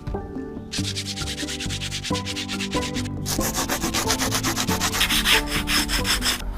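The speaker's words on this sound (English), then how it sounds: "Sanding, sanding, sanding." Steady rhythmic sanding of fiberglass, a coarse rubbing scrape repeating back and forth at close range, continuous with no voices.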